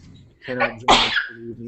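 Someone on a podcast sneezes once, sharp and close, between bits of speech.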